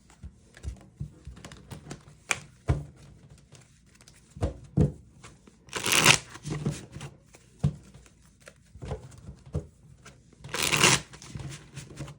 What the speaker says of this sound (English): Let me just get these cards shuffled real quick